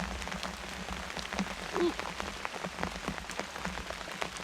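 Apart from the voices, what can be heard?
heavy rain falling on a tarp camp by a lake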